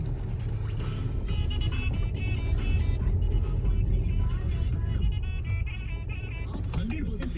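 A Hyundai Creta driving through Jaipur streets near Mansarovar, with a steady, loud engine and road rumble throughout and traffic noise around it; a voice seems to talk faintly underneath.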